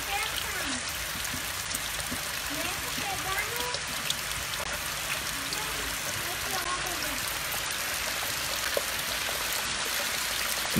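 Powerful waterfall at Eternal Flame Falls, a steady, unbroken roar of rushing and splashing water filling the scene at even loudness, with faint voices murmuring underneath.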